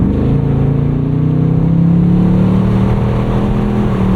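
A 2024 Ford Mustang Dark Horse engine drones loudly and steadily under partial throttle, its pitch climbing gradually as the revs rise, heard close with no talk over it.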